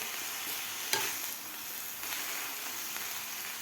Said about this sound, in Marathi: शेंगदाण्याचं कोट आणि मिरची लसूण घालून एक मिनिटभर मी हे भाज्या हलवून घेतलेल्या आहे